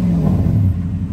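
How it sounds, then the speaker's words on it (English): A 2001 Toyota Tundra two-wheel-drive pickup with a V8 idles, its exhaust giving a deep, loud, close rumble that dips slightly partway through the brief moment. "Nice V8 exhaust, man."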